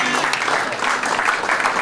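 Audience applauding a political delegation at a gathering in Ottawa, dense steady clapping from a crowd, sustained and fairly loud throughout, with voices mixed in.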